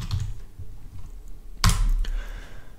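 Keys on a computer keyboard tapped while typing a layer name in GIMP, a few soft close clicks with one sharper louder keystroke midway, over faint background noise.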